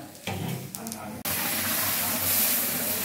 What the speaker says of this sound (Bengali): এবার ডালটা ঢেলে দিয়ে দিলাম।